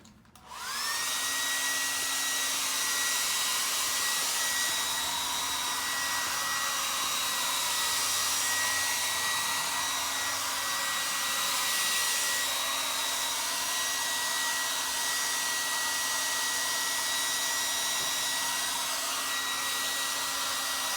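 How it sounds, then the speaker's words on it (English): A hair dryer switches on and blows continuously at close range, drying the freshly painted surface of a piece of furniture with a loud, steady whirring hiss and a constant motor whine throughout. "I'm going to quickly blow dry this so I just dry off the surface"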